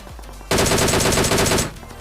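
In a mobile battle royale shooter played on a Samsung phone, a loud, close burst of rapid automatic gunfire lasts just over a second and then cuts off, with a quieter game background before and after.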